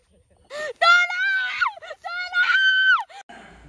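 A woman screams in several drawn-out, high-pitched wails, loud and close, separated by brief pauses.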